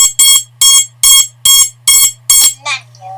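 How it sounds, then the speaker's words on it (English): Quadcopter motors on an Eachine Tyro99 kit sounding a DShot beeper: six loud, evenly spaced electronic beeps with a steady hum beneath, ending in a short warbling chirp. "We've got DShot beeper set up."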